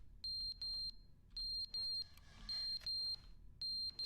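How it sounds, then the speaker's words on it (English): Fire alarm in the video game The Stanley Parable Ultra Deluxe: a shrill electronic beeping in short repeated bursts of three pulses, separated by brief gaps, loud and clear over quiet background. "The fire alarm?"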